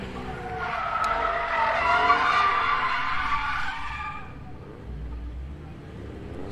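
A car skids and spins out during a motor club gymkhana test, with a loud tire squeal and engine roar that swells over several seconds, then fades into quieter outdoor noise.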